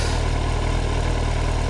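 A motorcycle engine running close by, a steady loud hum with a low rhythmic pulse and no change in pace, heard alone without talking.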